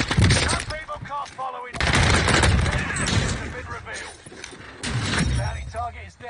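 Sniper and other gunfire in Call of Duty on Rebirth Island cracks in loud, close bursts with short gaps, while a player talks over it.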